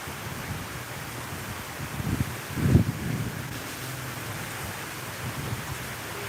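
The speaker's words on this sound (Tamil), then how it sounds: "பயங்கர மழை காத்து" Heavy rain and wind lash a village during Cyclone Fengal, a steady broadband wash of rain noise with a deeper gusty rumble swelling briefly midway, and no voices.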